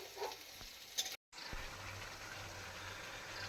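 Chicken fries in a pan with a quiet, even sizzling hiss, faint and steady, broken by a brief dropout and a couple of small clicks, no voices.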